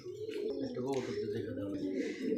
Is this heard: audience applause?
no